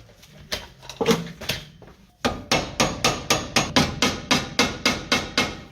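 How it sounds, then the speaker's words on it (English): A BMW E30 wheel stud is tapped into its hub with a punch or screwdriver during a five-lug swap. A few scattered knocks come first, then a pause and a steady run of about a dozen sharp metallic hammer strikes, close and evenly spaced. "we're gonna grab a screwdriver or a punch, and we're gonna notch these into place"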